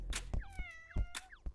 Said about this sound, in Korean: 고양이 소리 들리는데?